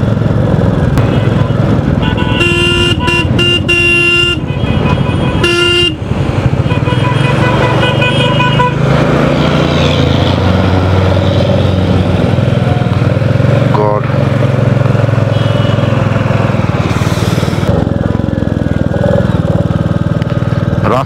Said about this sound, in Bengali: আমি খুব আস্তে আস্তে বাইক চালাচ্ছি